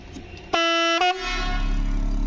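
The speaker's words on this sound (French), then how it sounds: "Le klaxon. Ça vient assez fort." Horn of a converted Iveco camper van sounding loud and close in two blasts: a long honk followed by a short one, then a fading tail.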